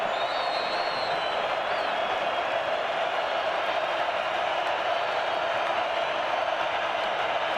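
A loud home crowd roars steadily at a college football playoff game, a dense sustained wall of cheering and noise that stays constant throughout.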